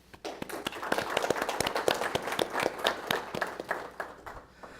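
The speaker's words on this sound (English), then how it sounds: "We'd like to at least start with some applause of appreciation" Audience at a full conference session gives applause of appreciation: many hands clapping at once, individual sharp claps standing out over a dense wash, building quickly and holding steady at moderate volume without talk.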